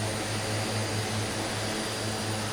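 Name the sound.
airplane engine after takeoff, video game Microsoft Flight Simulator 2020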